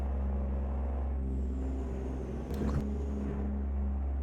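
Deep, loud rumbling Kenworth T800 truck engine idle in American Truck Simulator, with a steady low drone and a brief clank midway; no voices.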